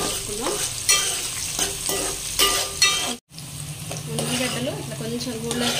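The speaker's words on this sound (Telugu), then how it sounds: "ఉల్లిగడ్డలు ఇట్లా కొంచెం గోల్డెన్ కలర్ వచ్చేంత వరకు ఫ్రై చేసుకుంటాం." Sliced onions frying in oil for a fish curry, sizzling steadily while a spoon stirs and scrapes the pan, with a brief silent gap midway before the crackle resumes.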